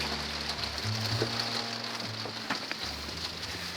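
Heavy rain pelting a tent during a windy night storm, a dense constant patter over a low steady hum and rumble.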